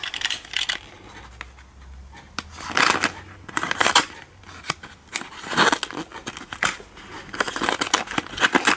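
Paper crinkling, crisp rustles and a few scissor-like snips as a small decorative gift pouch is opened, close and fairly loud, arriving in bursts with short pauses between them.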